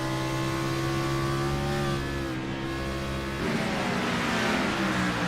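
A race car engine at Watkins Glen during a BMG X-Series round, held at high revs under hard load, steady and loud throughout with a pitch shift partway through as it changes gear.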